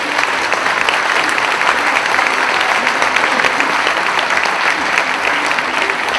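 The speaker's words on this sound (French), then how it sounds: "Sous vos applaudissements et encouragements" Sustained audience applause fills a city medal ceremony hall, a dense, steady wash of many hands clapping loudly throughout with no break.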